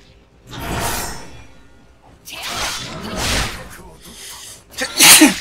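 A single sharp sneeze bursts out near the end, loud and close, following a few breathy vocal sounds and noises from a Wo Long: Fallen Dynasty gameplay session.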